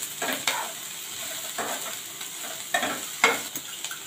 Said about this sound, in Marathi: या भाज्या आपण थोड्या हलक्या परतून घेणार आहोत